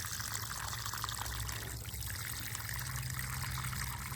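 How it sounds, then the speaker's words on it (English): Water-soluble fertilizer poured into a container of pepper plants, a steady, faint trickle and splash that runs continuously at low level. "I like to water in everything first, make sure the moisture goes through the whole container, and then just a quick pour"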